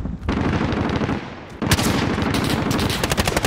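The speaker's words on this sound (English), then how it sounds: "I see someone shooting at something in the sky." Gunfire in a shooter video game: rapid automatic bursts, close and loud, with a sharp onset partway through and fast repeated shots continuing to the end.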